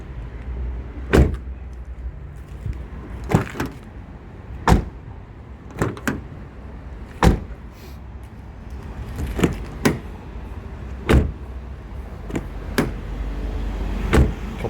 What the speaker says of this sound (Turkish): Sesi çok değişti. Çok ağırlaştı kapı.